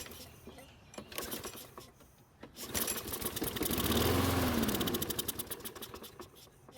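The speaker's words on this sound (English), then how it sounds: "the engine started and ran for a few seconds" A Toro lawn mower engine cranks with rough, uneven pulls, then catches and runs loudly for a few seconds, rising and falling in pitch before sputtering down. The sound is close and mechanical.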